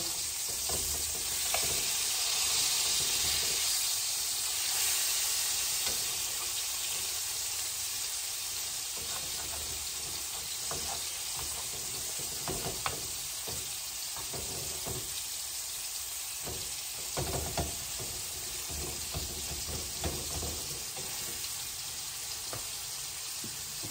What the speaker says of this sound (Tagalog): sa ngayon, babaliktarin na natin yung pork natin